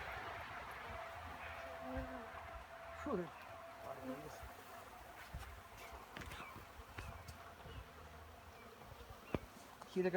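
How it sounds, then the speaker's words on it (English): A swarm of honeybees just dumped into a hive gives off a continuous, agitated buzz close to the microphone. It stays steady throughout, with a few brief sounds rising above it. "Now bees are gonna fly crazy because I'm gonna dump them."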